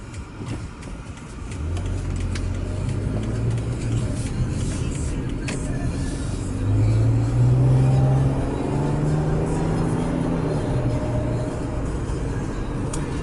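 A 2012 Toyota RAV4 Limited AWD V6 drives and accelerates through city streets, heard from inside the cabin as a steady low engine and road rumble with rising tones through smooth gear shifts.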